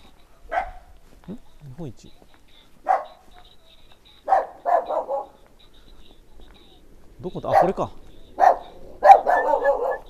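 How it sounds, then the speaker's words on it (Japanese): A dog barks in short bursts with growling mixed in, unseen and somewhat distant, heard during a bicycle trip around Tomie in Japan, with someone speaking briefly between the barks. "吠えてる間にうるるっていう声が入ってるの本気で怒ってますね。"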